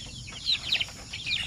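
Basilan and Sampin chickens clucking softly at close range, a few short chirpy calls rising over quiet farmyard background, with no voices.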